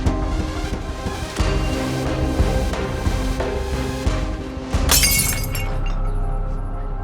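Glass object falling to the floor and shattering, a sudden bright crash at the end of a scene from a Turkish drama, rising out of a steady music bed and trailing into scattered tinkles.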